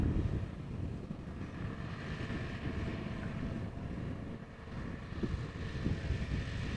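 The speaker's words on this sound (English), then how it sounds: "it looks like the A320 is taxiing straight ahead" An Airbus A320 taxis at Amsterdam Schiphol Airport, its engines a steady low rumble at a distance, mixed with wind buffeting the microphone.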